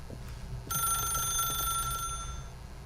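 A telephone rings in The Stanley Parable video game, a single bright electronic ring starting partway in and holding for over a second before fading, over a low background hum.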